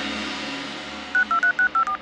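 A quick series of six electronic telephone keypad tones beeps in an even rhythm, each short and clear over a faint steady background hum.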